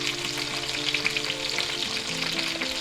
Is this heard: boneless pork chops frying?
yes